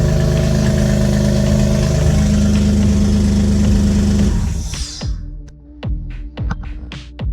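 A rear-mounted turbocharged car engine runs loud and steady with strong harmonic drone, then shuts off abruptly, leaving scattered clicks and ticking as it cools.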